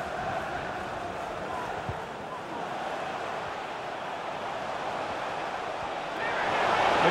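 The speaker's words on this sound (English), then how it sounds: "The crowd encouraging him to take it on." Stadium crowd in the FC 24 football video game, a steady broad roar of many voices that swells louder near the end, with a commentator talking faintly over it.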